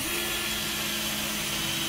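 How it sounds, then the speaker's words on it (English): A 4mm drill bores out spot welds along the nearside sill of a 1989 Vogue SE under body restoration, a steady, close whirring grind that runs without a break. "drilling spot welds, all I really do is just using something like a 4mm drill"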